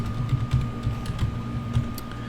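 Typing on a computer keyboard while entering a name during an Ubuntu install, a steady run of soft, close key taps at a moderate pace, with no voices.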